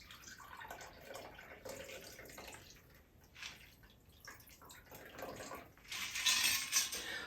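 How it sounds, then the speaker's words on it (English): Cosmopolitan cocktail poured from a shaker into a chilled martini glass, a faint, close trickle and splash of liquid that swells into a brighter pour near the end, with no talking. "We're taking our chilled martini glass, and we're going to give this a nice pour."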